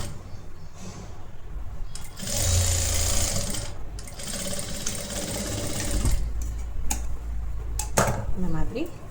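A sewing machine stitches a blouse collar in two loud, whirring runs of a couple of seconds each, with a person talking before, between and after the bursts.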